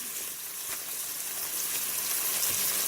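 About 100 grams of lardons fry in a Cookeo electric pot, giving a steady, soft sizzling hiss that rises slightly as it continues, with no talking.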